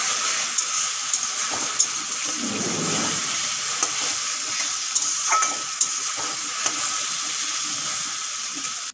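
An egg and potato mixture sizzles steadily in a pan while a spoon scrapes and stirs it in intermittent clicks and strokes, close and continuous.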